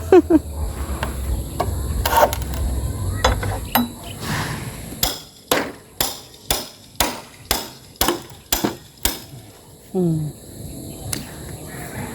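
Steady hammer blows ring out while building a fence, about a dozen evenly spaced strikes, following earlier scattered knocks and some voices in the background.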